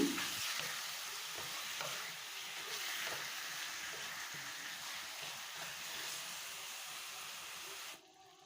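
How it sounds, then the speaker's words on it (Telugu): Chicken fries over a flame for Hyderabadi green chicken, a loud, dense hiss of sizzling oil running continuously with faint stirring scrapes underneath, then cutting off abruptly near the end. "మంట ఐ పెట్టుకుని చికెన్ని కొద్దిసేపు కలుపుకుంటూనే ఉండాలి"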